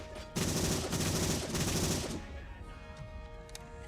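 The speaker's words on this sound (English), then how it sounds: "that gun is quite loud" Loud gunfire from RoboCop: Rogue City, rapid bursts of shots in quick succession for about two seconds, then fading into lingering echo and quieter ambient tones.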